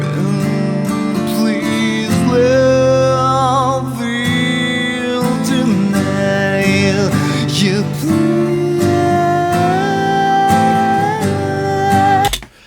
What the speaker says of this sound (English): acoustic guitars in stereo and a singer, but with a lot of delay and reverb